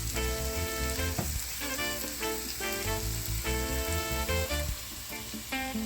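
Garlic sizzles and fries steadily in hot oil in a pan as a base for macaroni and meatballs, a loud continuous crackle with no talking.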